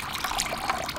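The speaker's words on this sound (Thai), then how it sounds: "เราเทน้ำมาก่อนแล้วกันเดี๋ยวเราใช้น้ำในการต้มด้วย" Water poured into a cooking pot while making Korean-style glutinous rice balls, a continuous close trickling and splashing stream at steady volume with no voices.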